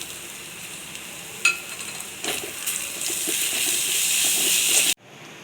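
Crushed ginger and garlic sizzle and fry in a hot pan for attukal paya, a goat leg stew, with a sharp hiss rising after a brief clatter and holding steady until it cuts off abruptly.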